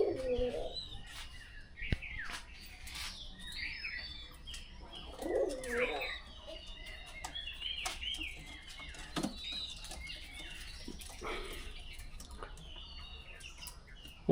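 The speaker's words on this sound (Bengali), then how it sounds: "পাশাপাশি রয়েছে কবুতর" Pigeons coo in low, throaty bursts near a cowshed, with soft chirps, occasional wing flaps and light clatter around them, close and intermittent.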